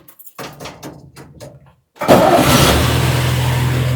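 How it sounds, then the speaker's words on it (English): A 1946 Chevy truck with a bolt-on exhaust kit cranks over with a rhythmic starter whir for about two seconds, then fires and settles into a loud, steady low idle rumble, heard from close by. "Let's see what happens when we start the truck."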